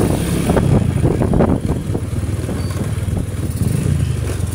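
A Rusi Sigma 250 motorcycle engine runs close by, with a loud, steady low drone and rapid firing pulses that surge briefly before easing to a constant note, alone without talk.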